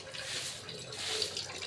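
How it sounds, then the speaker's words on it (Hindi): Steady splashing and running water as a doormat is washed at home, a continuous wet hiss without voices. "पावदान धो रही हैं।"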